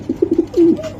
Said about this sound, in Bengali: দেখেন পাইপ কবুতর